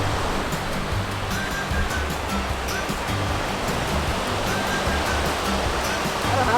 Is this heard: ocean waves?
yes